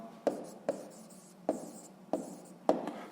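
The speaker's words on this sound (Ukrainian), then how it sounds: "записуємо відповідь, пишемо відповідь" Pen strokes as an answer to a sixth-grade math exercise is written by hand: five short, quiet scratching bursts spaced unevenly over a few seconds, with faint rubbing between them.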